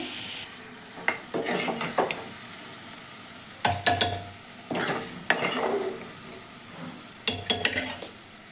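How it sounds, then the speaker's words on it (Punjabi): A spoon stirs sizzling tempering spices for chickpeas in a metal pressure cooker in several short bursts, scraping and clinking against the sides, with quiet pauses between. "ਇਹੀ ਤੜਕੇ ਨੂੰ ਆਪਾਂ ਕੁੱਕਰ ਵਿੱਚ ਪਲਟਾ ਦੇਵਾਂਗੇ"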